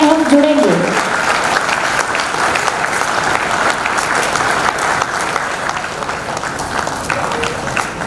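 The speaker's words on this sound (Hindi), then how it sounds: "बुक विमोचन के साथ ही जोरदार तालियों के साथ में हम जुड़ेंगे।" Loud, sustained applause from an audience at a book launch during a Gurupurnima festival event, dense clapping filling the room for several seconds after a brief voice at the start.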